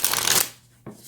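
Tarot cards riffle and shuffle close up for a short burst, followed by a soft tap as a card is drawn.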